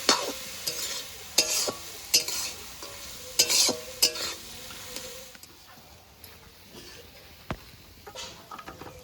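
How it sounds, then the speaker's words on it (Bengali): Kolmi greens mixed with rice flour and ginger paste are stirred in a pan: a series of sharp, close scrapes and clacks over a soft sizzle, spaced irregularly and easing off toward the end. "এবার নেড়ে চেড়ে নামিয়ে নেব"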